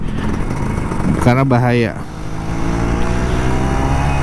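Kawasaki Ninja RR 150 two-stroke motorcycle engine running steadily close by, a continuous buzzing drone that persists beneath a brief spoken phrase.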